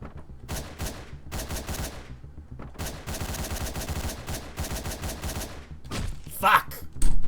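Video game gunfire: repeated bursts of rapid shots in separate volleys with short gaps, a heavier sharp impact near the end, mixed with game sounds and a faint voice.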